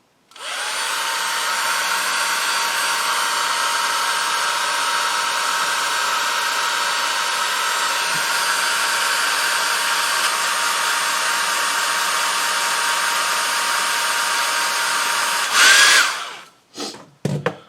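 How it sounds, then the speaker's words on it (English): Old hairdryer running on low heat, a steady, close, loud whooshing hum that holds evenly for about fifteen seconds before being switched off, followed by a few brief clicks and handling noises. "Now what I have here is an old hairdryer. I'm just going to put some low heat on this"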